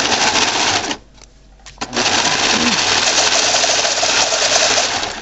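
A serger sewing a reusable snack bag, running loud and close with a dense whirring buzz, stopping briefly for about a second before starting up again and running steadily to the end.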